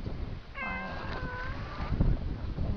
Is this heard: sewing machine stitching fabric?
no